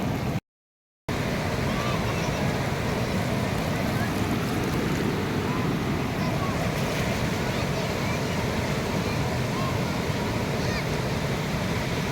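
Sea waves wash onto the beach at Ganpatipule, a steady loud roar of surf with gusting wind across the microphone, continuous apart from a brief dropout near the start.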